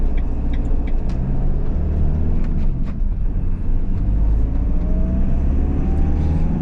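A van pulls out from a quiet house onto the road and drives off, a loud close engine hum with low rumble and a rising tone as it gathers speed, no talk.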